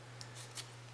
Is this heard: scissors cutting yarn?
yes